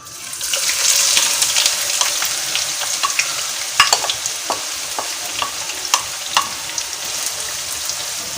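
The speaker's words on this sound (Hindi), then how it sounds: "तेल जो है वो गर्म हो गया है और इसमें हम जो है वो प्याज डालेंगे।" Onions hitting hot mustard oil and sizzling loudly up close, the hiss rising quickly then holding steady, punctuated by repeated scraping clicks of a spoon stirring; no voices.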